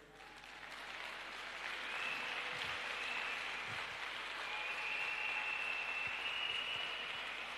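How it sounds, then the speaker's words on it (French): Sustained crowd applause and cheering at a church worship service honoring Jesus Christ, building over several seconds into a broad, steady roar that holds loud throughout. "donne un tonnerre d'acclamation à Jésus-Christ"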